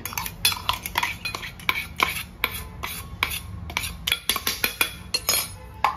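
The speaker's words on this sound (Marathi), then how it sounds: "ती चांगली तेलात परतवायची" Ground roasted dal is stirred in oil in a pan, with a run of close, sharp metallic clinks and scrapes from a spoon against the pan over a faint frying hiss.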